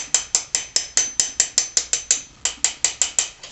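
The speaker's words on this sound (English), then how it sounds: "slowly tap her in until she's basically even with the case" A shift shaft oil seal is tapped into a Kawasaki two-stroke triple engine case with about twenty sharp, evenly spaced metallic taps that each ring briefly, close up and alone, with one short pause partway through.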